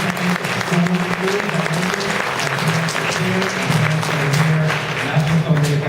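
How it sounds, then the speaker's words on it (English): Sustained applause from a school audience honoring PTA parents, steady and dense clapping throughout with some talk mixed in underneath. "Let's give your parents a round of applause."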